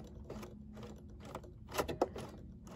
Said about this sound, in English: I'm going to go ahead and continue sewing